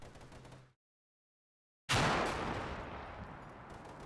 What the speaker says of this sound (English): I've got a machine gun suppressing the infantry in this building.